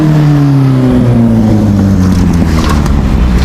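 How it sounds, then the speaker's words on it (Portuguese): A Kawasaki motorcycle passes close by at night, its engine revving with a steady, loud drone that slides downward in pitch as it goes past, filling the whole moment alone. "Essa foi a moto que passou."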